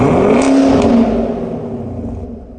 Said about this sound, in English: That sound you're hearing is the